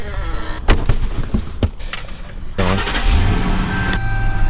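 A Mercury car is started up and driven off for a trip to Newark airport: a starter crank and the engine catching, then a steady idle and low rumbling drive, heard close up with no one talking.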